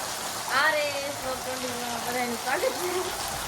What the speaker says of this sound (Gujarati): આજે અમારે ઘરે વરસાદ ચાલુ થઈ ગયો છે